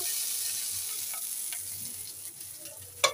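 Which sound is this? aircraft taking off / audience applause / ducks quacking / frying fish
frying fish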